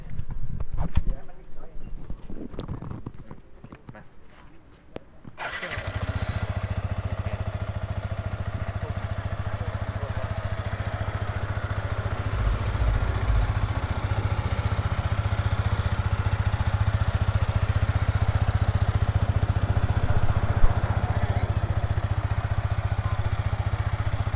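A Yamaha R15 sport motorcycle starts with a quick burst and then settles into a steady, low, throbbing idle that runs close and unbroken. Clicks and voices come before the start, and people talk over the idle.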